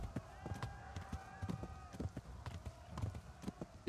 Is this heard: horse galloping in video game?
yes